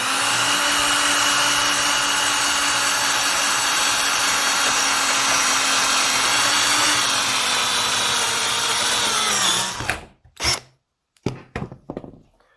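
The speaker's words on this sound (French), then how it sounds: "je place un bout de bois dessous, calé, il faut, voilà, et je viens percer" A power drill boring through wood propped on a wedged block during a van conversion, running loud and steady for about ten seconds with pitch dropping as it cuts, then stopping, followed by a few knocks and handling sounds.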